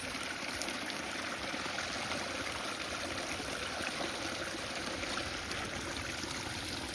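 Steady rushing of a fast-running creek after heavy rain, a constant broadband flow with no pauses, close and fairly loud throughout.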